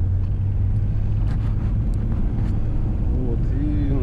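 A BMW E34 car rolls along a damaged, potholed asphalt road, its engine drone and tyre rumble steady and close throughout, with wind buffeting the microphone and someone talking over it.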